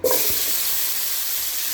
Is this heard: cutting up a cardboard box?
no